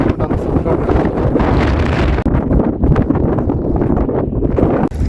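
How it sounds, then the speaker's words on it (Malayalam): Strong, continuous wind blowing over a tower in the Tibetan high desert roars and buffets against the microphone, gusting loudly throughout with low rumbling turbulence. "ഒരു വൂം വൂം വൂം സൗണ്ട് കേൾക്കുന്നുണ്ടോ ഈ ഒരു ടവറിൻ്റെ മേലെ കാറ്റ്"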